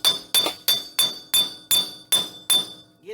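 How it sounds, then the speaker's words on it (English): Eight sharp metallic hammer blows at a steady rhythm knock a wheel bearing loose from the hub of a Toyota Tacoma, each strike ringing briefly, close and loud, with no talking. "we'll knock this bearing off"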